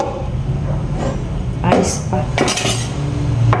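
Kitchen knife slicing through a fish on a board for fish tinola, a few short clinking and scraping strokes close by, with a brief spoken remark over steady background hum.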